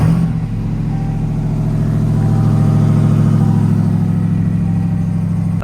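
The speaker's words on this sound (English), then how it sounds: "let's get a nice cold start going" Ram TRX pickup at a cold start, a loud deep engine that catches and settles into a strong, steady, rumbling high idle held close to the microphone, with no one talking.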